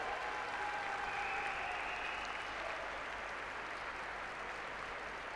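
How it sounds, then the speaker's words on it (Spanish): An audience claps steadily at a Leonese wrestling (lucha leonesa) team league final, a sustained crackle of many hands heard from a distance, fading gently over about five seconds with no talk on top. "recibamos con ese aplauso a Óscar González."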